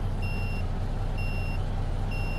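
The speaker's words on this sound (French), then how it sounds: "Il est stressant, le bruit clignotant sur ce camion." Turn signal ticking in a truck in American Truck Simulator, sharp electronic clicks repeating about once a second over a loud, constant low engine drone.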